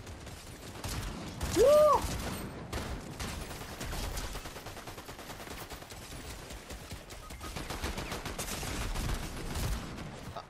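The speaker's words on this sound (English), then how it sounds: "Why are you shooting me?" Dense, continuous gunfire from a Fortnite match runs throughout, with rapid bursts packed over a busy game soundscape and a short vocal whoop near the start.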